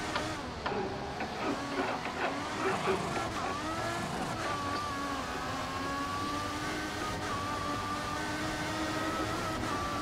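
A racing car's engine drones steadily in a PC racing game played with a Logitech Driving Force GT wheel, its pitch shifting through gears, with voices talking over the continuous game audio.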